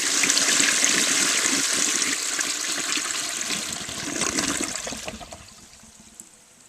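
A 1959 Standard Modernus toilet flushes a bowl full of leaves and stems, a loud, close rush of water that churns for several seconds and then tapers into draining and trickling.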